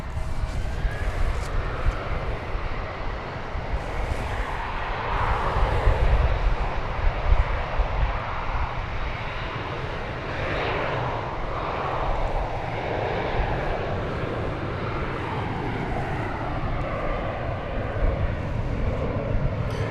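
Airplane taking off at DFW Airport, a jet engine roar that swells in the middle and then holds as a steady distant rush, heard from outdoors with no talk over it.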